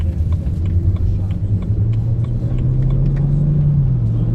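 A BMW 335i in manual mode pulls in second gear from a rolling start, its engine a steady low rumble that rises slowly in pitch, heard from inside the car with someone talking over it.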